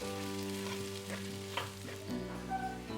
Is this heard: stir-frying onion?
yes